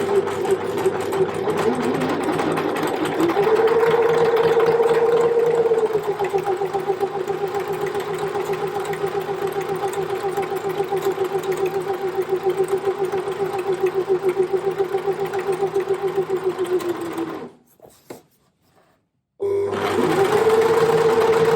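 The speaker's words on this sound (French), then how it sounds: "vous le faites au point zigzag de la machine à coudre" A sewing machine runs a zigzag stitch along a table ironing-board cover, a steady close mechanical whir that holds for about seventeen seconds, cuts out briefly, then starts up again.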